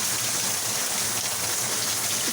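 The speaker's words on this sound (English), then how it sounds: "look at this rain" Heavy rain pours down steadily in a dense, even hiss of water striking surfaces, loud and close throughout, with no voices.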